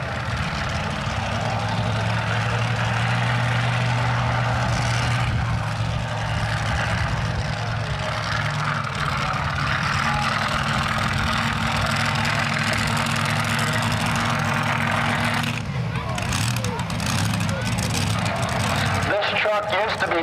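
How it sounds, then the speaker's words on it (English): A supercharged truck-pulling truck rumbles loudly at idle after starting up at a fire station pulling event, its steady low engine drone continuing for a long stretch, with crowd talk and a brief change in tone near the end. "I hear Andy Forster starting up his truck called the Bandit."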